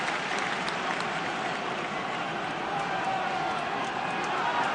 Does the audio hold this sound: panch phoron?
no